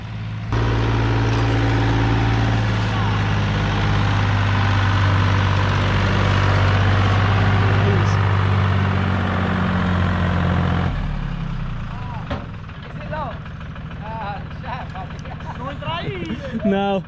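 A tractor engine comes up a rural farm road in central Portugal, a loud, steady low rumble that dominates before dropping away suddenly, leaving quieter engine noise with birdsong and faint background sounds.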